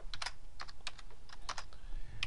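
Quick bursts of typing on a computer keyboard while entering text into an Excel formula, with clicky keystrokes in an uneven rhythm, close and clear, and no talking.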